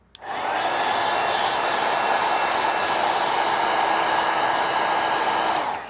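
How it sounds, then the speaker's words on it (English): A heat gun blasts a steady, loud hiss of hot air onto watercolor paint, switching on abruptly and running unbroken for several seconds. "I'm going to hit it with a heat gun"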